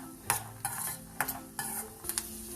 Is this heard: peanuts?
yes